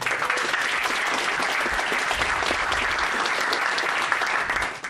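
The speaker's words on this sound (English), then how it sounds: "maybe a little bit of applause for him" Sustained applause from a conference audience at a JavaScript/TypeScript runtime talk, steady and dense throughout, fairly loud and unbroken by talk.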